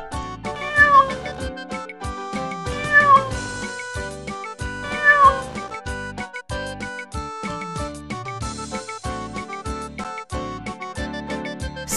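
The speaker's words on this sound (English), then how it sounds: "C for cat." A cartoon cat meows three times in quick succession over bright, busy background music in a children's alphabet animation.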